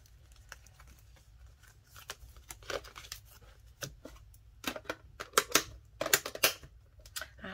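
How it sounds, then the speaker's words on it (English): Paper envelopes pulled from a cash-stuffing savings binder and handled, giving quiet, irregular rustles, crinkles and short tearing-like scrapes that grow busier and louder toward the end, with no talking. "Go ahead and take my envelopes out."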